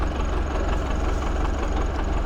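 A ZIL truck engine idling steadily while a hydraulic cylinder lifts a bed of sand, a loud, continuous low rumble with an even knocking pulse.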